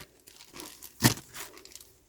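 Paper surprise packets crinkle and tear in a few quick handling rustles, with one sharper rip near the middle, close and fairly quiet.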